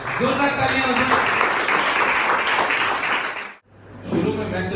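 A graduation-day audience breaks into strong, continuous applause for an award photo, loud steady clapping for several seconds that cuts off briefly before resuming.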